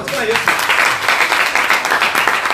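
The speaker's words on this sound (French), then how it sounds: "Gloire à Jésus, acclame Jésus" A church congregation claps and cheers in a dense, sustained burst of applause, loud and close, with voices shouting among the clapping throughout.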